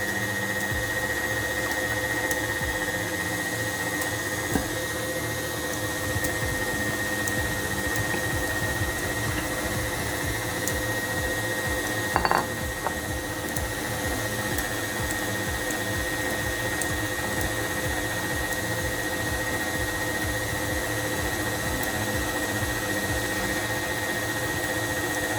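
An electric mixer whirs steadily through Jamaican black fruit cake batter, a constant motor hum with a slight rhythmic churn, close and uninterrupted for the whole stretch.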